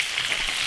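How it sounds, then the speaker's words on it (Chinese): Fish frying in an iron wok, a steady bright hiss of hot oil heard up close for a brief moment. "这个鱼煎到这样就行了"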